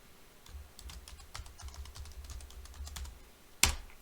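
Rapid keystrokes on a computer keyboard as a root password is entered to shut down an Untangle W8 network appliance, a steady run of light clicks for several seconds ending in one sharp, louder tap.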